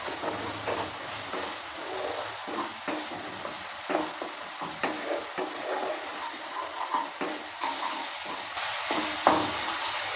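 Spice paste for a pea kofta curry stirs and fries in a pan, a steady close sizzle with scraping strokes of the spoon running through it without pause.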